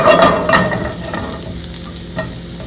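Garlic sizzling and frying in a hot pan during a beef and asparagus stir-fry, with stirring scrapes over a steady crackle, loudest at the start and then settling into a quieter sizzle.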